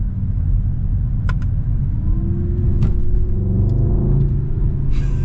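A 2022 Mercedes-AMG GLE 63 S SUV engine rumbles steadily while driving, heard from inside the cabin, with a rising rev partway through and a few faint clicks, without talk.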